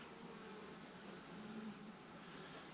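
Honey bees buzz around their hive in a steady, low, continuous drone, moderately close but soft, with no voices.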